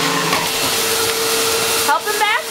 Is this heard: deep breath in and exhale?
no